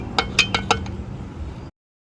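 Wrench on a 5/8 nut on a Mercruiser Alpha outdrive: four or five quick metallic clinks in close succession, near and fairly loud, then a short ringing tail before silence.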